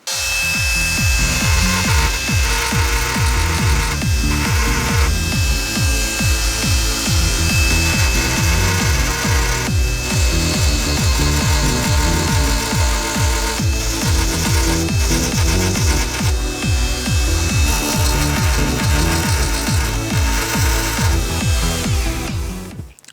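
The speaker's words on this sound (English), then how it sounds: "I'm gonna just grind down these nubs." A power tool grinds down small nubs on a harmonica being turned into a switchblade, running loud and continuous for the whole stretch with a steady buzzing, rapidly pulsing drone.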